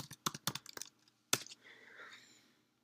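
Fingers type a short command on a computer keyboard: a quick run of crisp key clicks, then a pause, a single firmer keystroke and a soft fading rustle, all faint and close.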